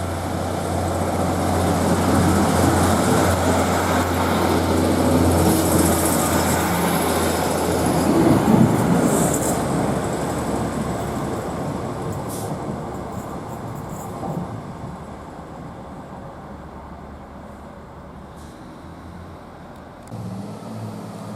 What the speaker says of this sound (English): Now the train get ready to depart from Bishop Auckland to Saltburn.